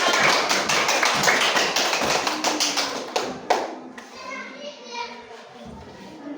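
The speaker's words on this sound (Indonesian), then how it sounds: "Nah, tepuk tangan pada kelompok A." Elementary schoolchildren in a classroom clap loudly together for a group, the burst fading after about three seconds into scattered taps and children's chatter.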